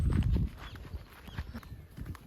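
Horse hooves clip-clop on the ground at a stable in eastern Jeju, a heavy thump followed by a quick, uneven series of lighter hoof knocks, close by and moderately loud.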